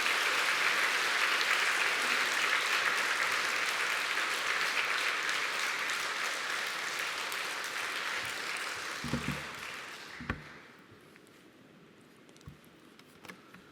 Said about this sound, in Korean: 우리 뜨거운 환영의 박수로 모시겠습니다